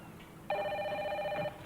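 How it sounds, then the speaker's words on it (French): A telephone rings once in a single sustained electronic trill about a second long, clear and fairly close against a quiet room with faint background noise. "Milou, au téléphone."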